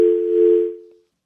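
A telephone busy tone sounds once, clear and steady, after a radio phone-in call to a politician drops; the short beep rings alone and then cuts to silence.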